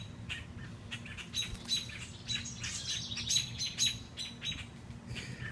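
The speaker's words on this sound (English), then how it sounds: "Give another little chirp." A small bird chirps and squawks repeatedly in quick, bright bursts, close and fairly clear over a low background rumble, with blackbirds nearby.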